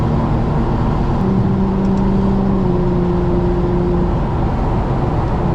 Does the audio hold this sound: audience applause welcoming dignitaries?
no